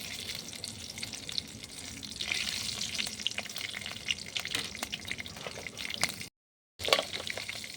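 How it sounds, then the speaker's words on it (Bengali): Three bay leaves and three dried red chillies sizzle steadily in hot oil, a close, continuous crackling fry with scattered pops and a brief gap of silence near the end. "ওই তেলে দেবো তিনটা তেজপাতা আর তিনটা পাকা লঙ্কা"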